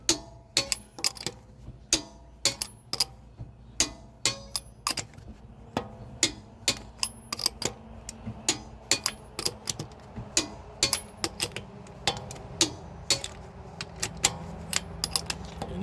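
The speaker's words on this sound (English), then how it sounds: "this is a clicker torque wrench" A clicker torque wrench is worked around a five-lug car wheel, tightening the lug nuts in a sequence. It gives sharp, close ratcheting clicks in uneven bursts over a quiet background.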